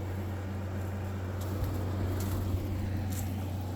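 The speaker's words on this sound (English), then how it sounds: "running this air conditioner" A steady low electrical hum from an air conditioner running off a 3000 watt inverter and lithium batteries in a van drones on without change, with faint background noise and no talking.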